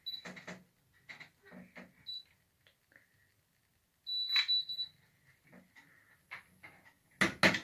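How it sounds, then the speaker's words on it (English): A Curl Secret automatic curling iron gives short electronic beeps, a few scattered tones between quiet gaps, with some handling clatter and a louder clunk at the end. "I think I counted an extra beep last time."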